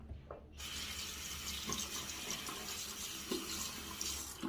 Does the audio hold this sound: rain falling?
no